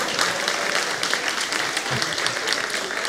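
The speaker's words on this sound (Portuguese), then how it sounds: "Pode aplaudir, não tenha medo." A stand-up comedy audience applauds steadily for about three seconds, a dense wash of clapping that stays strong throughout, with some speech mixed in.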